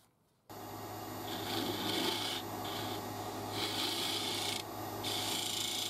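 Sandpaper rasps steadily against the top of a turned wooden lid spinning on a Coronet Herald lathe, a continuous close rubbing that swells and eases in strokes over the motor's steady hum, with no talking.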